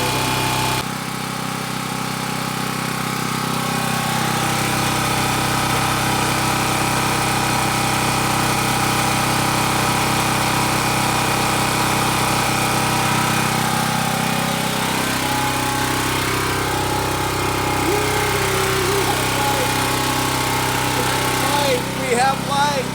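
A Champion portable generator runs continuously after its first startup, a loud close buzzing engine drone with a steady hum that shifts pitch slightly partway through as the load changes.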